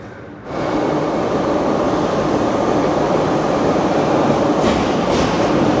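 A train rumbles loudly and steadily into a station in Russia, a continuous close roar of wheels and carriages, with faint squeals toward the end.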